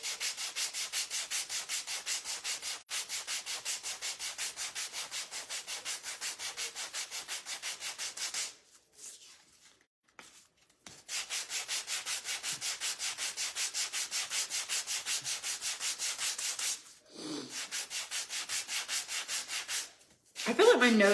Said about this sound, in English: I just want to sand it.